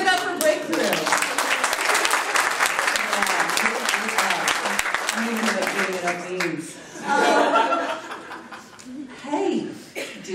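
Dense, loud applause from a conference audience at a Drupal keynote, cheering a sponsor named Breakthrough; the clapping fills the first seven seconds, then thins out under chuckles and voices.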